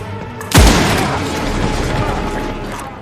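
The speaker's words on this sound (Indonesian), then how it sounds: "sebuah tembakan mengenai kakinya membuat Devon jatuh tersungkur." A single loud gunshot cracks out, followed by a lingering rumbling echo and background noise.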